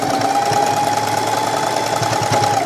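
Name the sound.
sewing machine stitching fabric pieces of a patchwork hoodie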